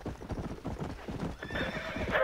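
Horse hooves clip-clop in a steady, rapid rhythm in Red Dead Redemption multiplayer, the horses pulling a wagon, with a brief whinny near the end; the hoofbeats are close and moderately loud.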